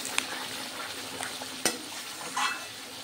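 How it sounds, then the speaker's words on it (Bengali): Spice masala frying in oil, with a soft continuous sizzle under a few scattered clicks and scrapes of a spoon stirring in the pan, quiet and close. "না পর্যন্ত তেল বেরিয়ে আসবে ততক্ষণ পর্যন্ত আমি মশলা কষাতে থাকব।"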